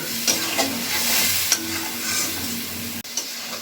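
Spice paste with black pepper powder fried and stirred in oil in a pan for a Bengali potol chingri curry, a steady sizzle with repeated scraping stirs, fairly loud and close, no talking.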